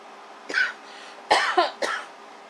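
Repeated harsh coughs from a person having a coughing fit indoors in an apartment: a single cough, a pause, then a tight cluster of three close, loud bursts.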